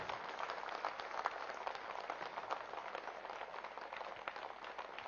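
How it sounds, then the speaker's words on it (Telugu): A meditation audience at an evening session of a seven-day retreat in Tirupati gives its closing applause, a steady, dense patter of many hands clapping that sounds fairly distant and soft. "ఒకసారి గట్టిగా చప్పట్లు కొడదాం"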